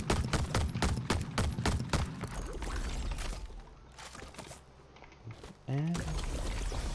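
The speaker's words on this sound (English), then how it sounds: "the fire rate of my gun is matching it flawlessly" Marksman rifle gunfire in a video game, loud rapid rhythmic shots in the opening seconds giving way to dense game noise and a rushing, pouring texture, with someone talking over it.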